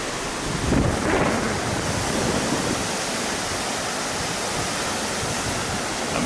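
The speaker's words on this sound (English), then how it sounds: "see some of those waves hitting the breakwater there" A steady, heavy roar of surf crashing against a breakwater on the north Oregon coast, with a louder surge near the start and continuous broadband wash throughout.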